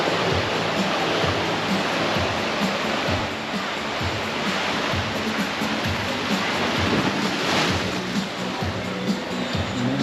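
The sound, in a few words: rough sea waves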